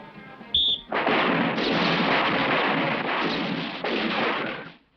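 Rapid gunfire at an outdoor firing range: a brief sharp report, then a sustained dense roar of overlapping shots that runs loud and unbroken for several seconds, with no voices.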